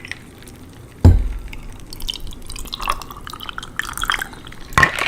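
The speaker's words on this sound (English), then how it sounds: "Oh, such a big pour. Such a big, giant tiki mug." A Mai Tai cocktail is poured into a large tiki mug: a sharp clink, then a short splashing pour and faint liquid trickles and drips.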